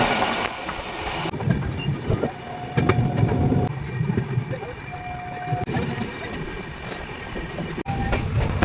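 The 22912 Shipra Express train rumbles and clatters into a station at Asansol, with a thin metallic squeal rising over the rolling noise and muffled voices nearby.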